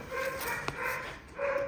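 A dog shut in its crate whimpers and gives short, fairly quiet yelping barks in a few separate bursts close by.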